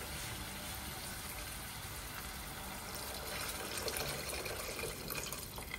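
Water poured into a cooking pot for kabsa tuna rice, a faint continuous splashing flow that grows slightly stronger partway through, with no talking over it.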